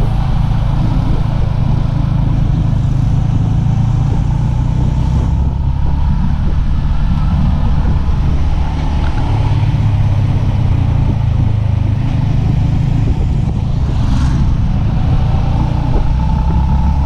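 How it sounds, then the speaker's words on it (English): A car engine runs steadily in a city in the Philippines, a loud continuous low rumble with road and traffic noise lasting throughout, no voices heard. "We haven't damaged the engine."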